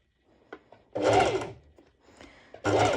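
A sewing machine runs a straight stitch through stretch net fabric in two short bursts of steady motor whir, with a few soft clicks and handling sounds between them, close and fairly loud.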